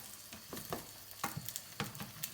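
Eggs frying in an Aldi non-stick pan while chilaquiles are being made, giving a steady close sizzle broken by scraping stirs and light clicks at a regular pace, with no talking.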